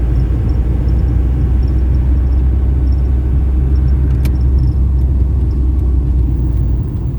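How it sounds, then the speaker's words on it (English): A car drives slowly through the main street of a small country town near Mogumber, with a loud, steady low road rumble and engine drone heard from inside the cabin. "just do a bit of a drive through the main street now and head off, keep going"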